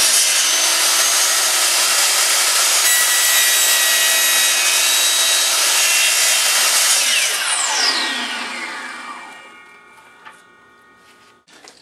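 A power saw cuts through a laminate flooring plank with a loud, bright buzzing whine that holds steady for several seconds, then winds down as the blade slows, followed by a few faint clicks.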